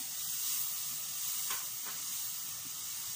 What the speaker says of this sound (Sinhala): මේ විදිහට පොල් කිරි ටික ලිපේ රත් වෙනකොට